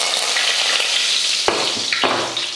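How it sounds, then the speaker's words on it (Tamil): Oil sizzles and crackles steadily as mustard seeds and curry leaves fry, with a couple of sharp bursts of spitting partway through. "எண்ணெய் நல்லா காஞ்சிருச்சு. இதில் கடுகு, அடுத்து கருவேப்பிலை"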